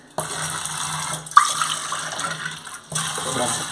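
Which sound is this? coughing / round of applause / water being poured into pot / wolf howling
water being poured into pot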